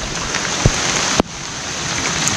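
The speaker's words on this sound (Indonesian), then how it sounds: "Karena hujan kayak gini sangat menakutkan ya" Heavy rain pours steadily and loud, a dense constant hiss on a rocky crystal-hunting hillside, with a couple of sharp knocks cutting through and no talk.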